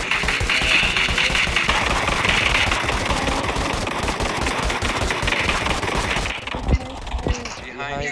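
Video-game gunfire rattles in rapid, dense automatic bursts during an online match, loud and nearly constant for about six seconds. It thins into a few scattered shots near the end.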